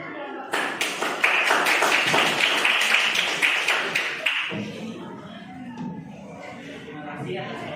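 A group of listeners claps together for a presenting group for about four seconds, a dense burst of hand claps that then fades out, followed by quiet voices and room noise.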